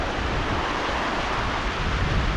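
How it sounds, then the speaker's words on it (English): Mill Creek on the Vivian Creek trail up San Gorgonio rushes close by, a loud, even hiss of flowing mountain water with no breaks. "So here's Mill Creek."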